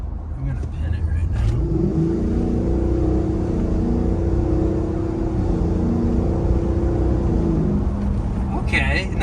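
A new Ford F-550 heavy-duty truck pulls away at full throttle, its engine drone climbing steadily and loud from start to finish, with road and wind noise underneath and a brief voice near the end.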